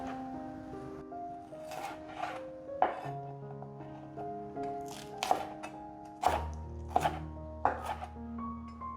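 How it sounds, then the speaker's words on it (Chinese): A knife chopping celery into thin strips on a cutting board, sharp separate knocks in an irregular rhythm over soft background music. "再把芹菜切成细丝"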